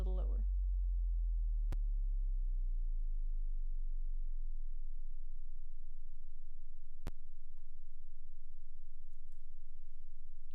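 A pure sine-wave test tone sits very low in pitch, a deep steady hum that fades over several seconds, with two faint clicks and otherwise near silence.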